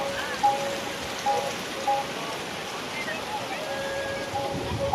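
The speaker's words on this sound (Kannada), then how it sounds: "ಕೆರೆ ತುಂಬಿ ಕೋಡಿ ಹೋಗುತ್ತಿರುವ ದೃಶ್ಯಾವಳಿಗಳು" Steady rushing water spills and splashes continuously over a lake weir after rain, like a broad overflow, with faint short tones and no clear talking.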